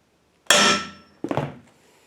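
A piece of pipe is struck with a hammer to dent a metal part on a 347 stroker engine project. Two sharp metallic blows, one loud then a softer double hit, ring out with no talking.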